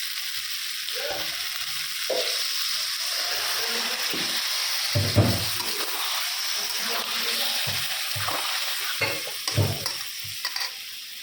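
Cooking in a frying pan, with water added partway, makes a steady sizzle broken by repeated stirring scrapes and clattering knocks of a utensil against the pan.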